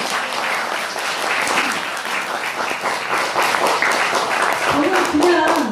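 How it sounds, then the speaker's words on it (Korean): Applause from an audience at a Buddhist dharma service at a temple for the army's 25th Division, dense clapping throughout with voices mixed in and a rising vocal sound near the end. "박수 한번 쳐야겠다."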